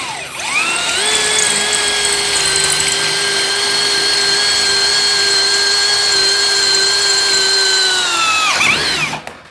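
A Hychika 1/2-inch brushless drill runs in drill mode with a loud, steady high-pitched motor whine that spins up, holds for about eight seconds and winds down, heard up close with no talk.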